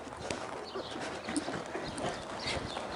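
Horse hooves clip-clopping at a collected gait during riding drills in an arena, a steady rhythmic series of close, crisp thuds with no voices.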